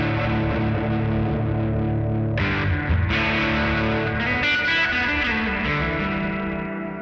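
Guitar through a Hologram Electronics Chroma Console effects pedal with drive placed before reverb, a sustained distorted, chorused tone that shifts texture partway through, loud and continuous with no talking.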